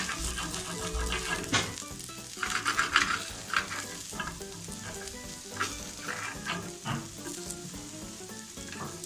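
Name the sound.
activated charcoal dosa frying crisp on the pan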